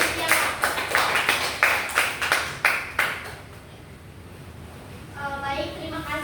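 A small group of students claps in a classroom guidance session, with around eight brief, uneven bursts of clapping over about three seconds, then fading into quieter room noise.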